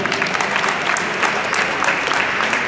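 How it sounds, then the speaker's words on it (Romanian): A crowd at a youth football award ceremony claps steadily and loudly with a dense, even texture, continuous throughout without any pause. "merită să-l aplaudați"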